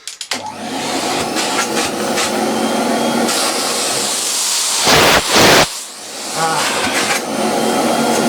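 A refurbished vintage Electrolux XII (Model 12) vacuum cleaner runs with a loud, steady motor whine and airy roar, its tone surging briefly as the airflow changes midway, close to the microphone.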